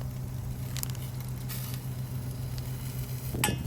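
Pork barbecue skewers sizzle on a grill. The soft, steady sizzle sits over a low constant hum, with a few brief crackles and one louder burst near the end.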